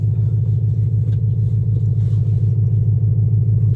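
A 1200 hp stick-shift Ford Mustang Dark Horse engine rumbles deep and loud at close range, with a steady pulsing throb that keeps an even rhythm and no voices over it.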